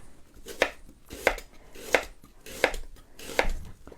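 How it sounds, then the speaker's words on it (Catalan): Knife slicing onions lengthwise along the grain for fermenting, five crisp, evenly spaced cuts against a board, close and clear with no talk. "A ploma vol dir que la ceba té uns nervis i llavors hem d'anar-los tallant així, en direcció al nervi"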